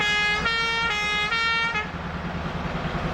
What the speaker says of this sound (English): bus honking like that, or that truck?